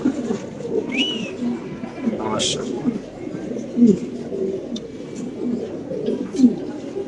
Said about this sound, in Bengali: মাশাআল্লাহ ব্ল্যাক কালারের অরিজিনাল টপ লাডের এক জোড়া লাহোরি কবুতর